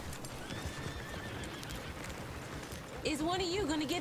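A horse whinnies loudly near the end over a steady bed of game ambience and hoofbeats, with a brief murmur of voices, in the video game Red Dead Redemption 2.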